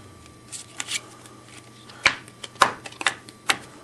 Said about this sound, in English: just do a couple more false cuts